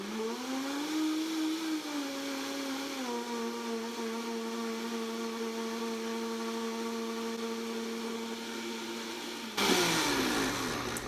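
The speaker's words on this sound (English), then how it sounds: "now that you've got your cream in your blender, just turn it on." A blender whirs steadily, whipping cream on its way to becoming butter: a loud, close motor whine that dips slightly in pitch as the mixture thickens, then shifts abruptly near the end as the load changes, with no talking.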